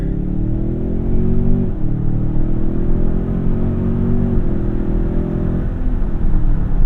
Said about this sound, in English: Big corner. Foot down to the floor.